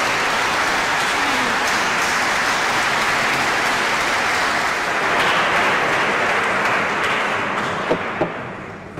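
Audience applause following a religious testimony, a dense, steady wash of clapping from a large gathering, sustained loud for several seconds before tapering slightly at the end.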